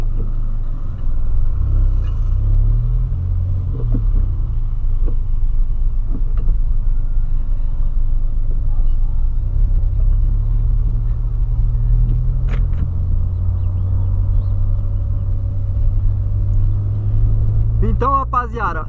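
Steady low engine rumble and road noise fill the cabin of a Volkswagen Polo while driving, continuous and close, with faint occasional knocks and a brief sharper sound at the end.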